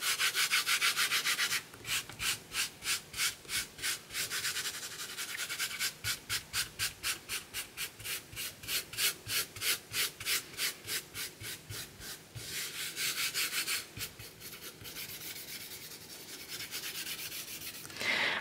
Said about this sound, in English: rub off the excess onto the sheet by the side